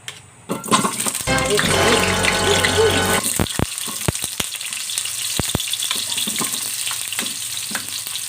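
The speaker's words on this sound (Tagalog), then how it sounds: "Prituhin muna natin ng saglit" Potato and carrot pieces fried briefly in a pan for Filipino chicken afritada, giving a loud, steady close-up sizzle with scattered stirring clicks and scrapes throughout.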